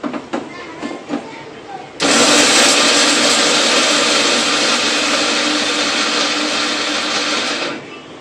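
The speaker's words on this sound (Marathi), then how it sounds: "आणि आता आपण हे वाटण बारीक करून घेऊया" A kitchen mixer grinder whirs loudly and steadily as it grinds a fresh coconut chutney paste, starting abruptly after a few soft clicks and running for several seconds before winding down.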